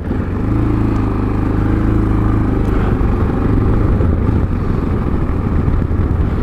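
A motorcycle engine runs in third gear at about 26 mph and 2800 revs, a loud, close, continuous low drone with a steady throb throughout.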